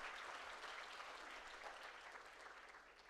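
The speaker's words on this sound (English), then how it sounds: "Mr. Oswald deserves a bigger round of applause," Audience applause for Mr. Oswald at a Water Resources Institute event, a steady wash of clapping that holds evenly through the whole stretch at moderate distance, quite faint, with no talk over it.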